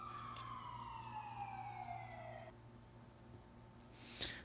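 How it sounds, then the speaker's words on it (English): Emergency vehicle siren wailing at a distance, one long descending tone that stops abruptly, faint beneath a low steady background hum, followed by a brief clatter nearby. "You can hear there the sirens in the background."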